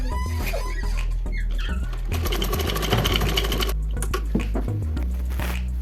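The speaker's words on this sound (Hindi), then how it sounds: "जैसी हमारी नेक की शेप होगी उसी के अकॉर्डिंग हमें इस कपड़े के ऊपर सिलाई लगानी है।" A sewing machine stitches along the neckline of a salwar suit, whirring in quick, rapid bursts with short pauses between runs, close and loud.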